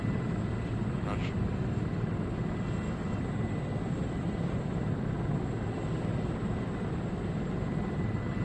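Helicopter engine and rotor in the ArmA 3 video game, a steady loud broadband drone held throughout while the aircraft flies and hovers, with no speech.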